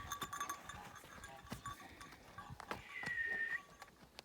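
A draft horse whinnies and snorts amid steady hoof clip-clops on hard ground, with a thin high whistle-like tone near the end.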